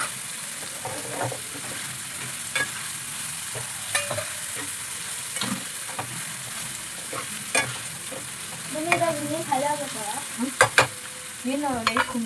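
Green and dried chillies fry in hot oil in a pan with a constant crackling sizzle, broken by stirring scrapes and a few sharper clicks of a spoon against the pan toward the end.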